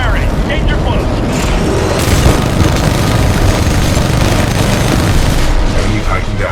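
Mech gunfire and explosions in the Titanfall 2 video game: dense, continuous booming and rapid fire that blends into a loud, sustained roar, with game voice lines over the top.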